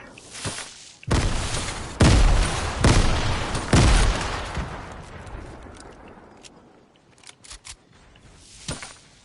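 Grenade blasts and rapid gunfire in the video game Fortnite come as several loud, booming bursts clustered early, then fade into scattered, lighter shots and clicks.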